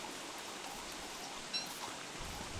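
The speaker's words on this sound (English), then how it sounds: "Why is it raining?" Steady rain in a video game, a soft even hiss of falling water with a brief brighter patter partway through, heard alone at low level.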